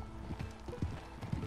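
A donkey's hooves clip-clop in Red Dead Redemption 2, several irregular thudding steps at close range over a low background rumble.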